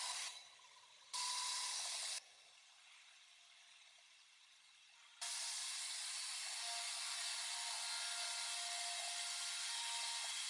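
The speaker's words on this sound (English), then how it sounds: "Milling center closes, mills whatever we want into it" A CNC milling center machines a stick of aluminum behind closed doors, giving off soft, broadband hissing spray in distinct on-off bursts. A short, loud burst comes first, then a quieter stretch, followed by a long, sustained hiss.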